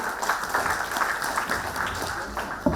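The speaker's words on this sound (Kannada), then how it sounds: "ಎಲ್ಲರೂ ದಯವಿಟ್ಟು ಮಕ್ಕಳಿಗೆ ಜೋರಾದ ಚಪ್ಪಾಳೆ ಮೂಲಕ ಪ್ರೋತ್ಸಾಹ ಕೊಡಿ" A crowd at a cultural awards program claps steadily for the children who just performed, a brief, fairly close wash of applause with faint voices underneath.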